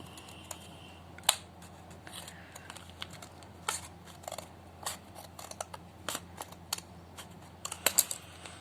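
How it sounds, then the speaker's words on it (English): Scissors snip open the plastic packaging of a SanDisk 128GB Extreme microSD card, giving a series of faint, irregular clicks and crinkles against a quiet room. "Now we will open this by scissors"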